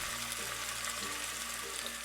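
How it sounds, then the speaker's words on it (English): Pork loin sizzles steadily in an oiled pan while pumpkin chili is being made, a continuous loud hiss of frying with a faint low hum underneath and no talking. "Then I add the meat and listen to it sizzle."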